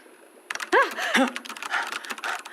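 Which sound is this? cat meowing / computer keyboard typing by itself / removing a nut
computer keyboard typing by itself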